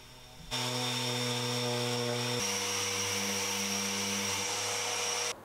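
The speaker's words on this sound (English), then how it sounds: "while I'm leaving these to dry, I can get the frames all sanded down" Power sander working over wooden window frames for a garden room, a steady loud whine with a buzzing hum running continuously, no talking.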